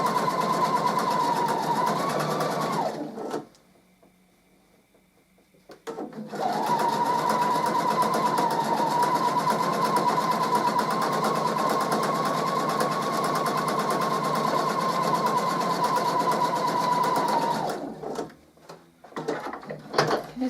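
A sewing machine runs steadily and loud while sewing the final seam of a patchwork square, pausing briefly in the middle before resuming and then stopping with a few soft handling sounds.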